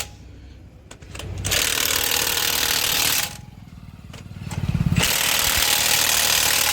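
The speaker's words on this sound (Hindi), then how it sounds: "पापा टायर फिट कर दिए, अभी मशीन से कस दे रहे हैं, जल्दी जल्दी कसा जाएगा।" Power wrench tightening the wheel nuts of a vehicle tyre being refitted, with two sustained loud buzzing bursts of rapid hammering separated by quieter machine hum, close up and without speech.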